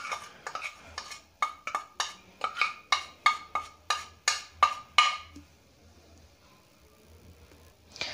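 Turmeric powder, red chili powder and spice mix being stirred into chopped vegetables in a bowl, a spoon clinking against the rim in about a dozen rhythmic, evenly spaced strokes before going quiet, no voices.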